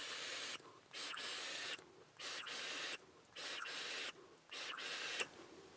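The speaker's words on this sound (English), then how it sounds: "I'm gonna vapor, chain vapor for you" Repeated inhales on a Joyetech Delta II tank filled with 90 VG e-liquid, five or six airy hissing draws of about a second each, separated by short pauses, close and steady.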